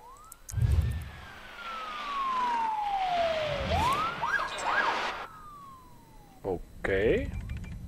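Ambulance sirens from the city-building game SimCity wail in rising and falling sweeps, fairly faint, with game sound effects and someone speaking German over them.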